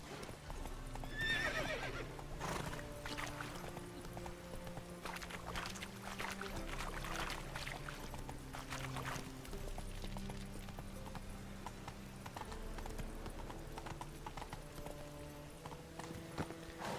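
A horse gallops in The Witcher 3 video game, its hooves clip-clopping in a steady rhythm over background music. A whinny sounds near the start, and no one speaks.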